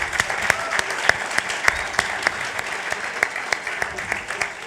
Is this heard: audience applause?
yes